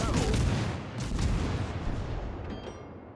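Cruiser main guns fire in World of Warships, a loud rolling barrage of heavy booms that fills the clip and fades toward the end.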